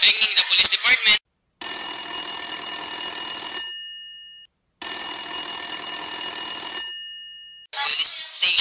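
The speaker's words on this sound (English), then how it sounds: "Ringing the police department." Old-fashioned telephone bell in a radio drama, ringing loudly in two long bursts separated by silence, with a voice speaking briefly before and after.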